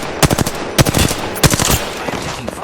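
Automatic gunfire in the video game Apex Legends comes in three sharp, loud bursts of rapid shots spaced about half a second apart, each with a short ringing tail.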